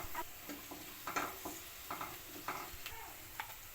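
Onion freshly pounded and softened, with turmeric added, is stirred in a frying pan, a spatula scraping in short, irregular strokes over a low sizzle, fairly quiet and close, with no talk.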